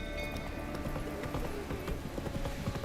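Roach, the horse in the video game Witcher 3, trots with quick, regular clip-clopping hooves, close and steady, over a low game ambience with no talking.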